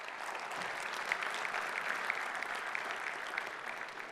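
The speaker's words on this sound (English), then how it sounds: "Please, applaud." A large conference audience at a fibre broadband industry opening session in Marseille applauds steadily, dense even clapping sustained throughout with no talk over it.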